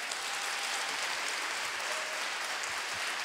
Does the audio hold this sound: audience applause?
yes